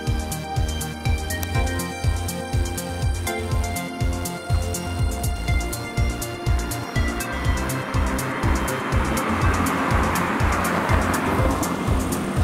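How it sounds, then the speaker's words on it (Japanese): A car passes along a road beside a remote unstaffed rural railway station on a misty night, its broadband engine and tire roar swelling steadily over several seconds against a background of rhythmic low thumps. "昼はけたたましいだけの車ですが、通るたびに少しホッとしますね。"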